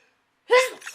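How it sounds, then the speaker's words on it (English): A single sharp human sneeze bursts out suddenly after a moment of silence, close and loud, followed by a brief breathy trail. "sneezing."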